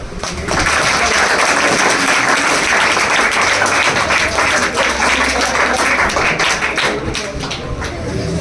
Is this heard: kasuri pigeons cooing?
no